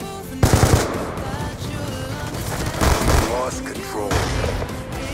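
A C4 charge detonates in the Call of Duty: Black Ops 2 video game with a loud, sudden blast. Rapid machine-gun fire follows, and a player talks over the clamor.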